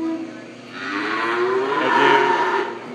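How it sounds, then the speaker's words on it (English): Cattle at a livestock auction give a drawn-out, swelling moo that builds and fades over a few seconds, heard close and clear with no talk. "And there's Ted's cow, number 40"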